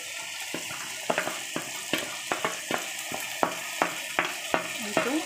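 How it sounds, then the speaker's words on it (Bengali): Rice sizzles in a hot pan while it is stirred for fried rice. A constant hiss runs underneath, and a spatula scrapes and clatters against the pan at close range every half second or so. "এটা ভালোভাবে ভেজে নিচ্ছি"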